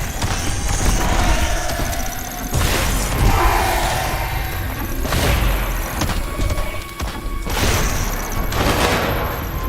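Mortar fire and explosions in the video game Dome Keeper, a dense run of booming shots and blasts layered with game effects, loud and continuous throughout.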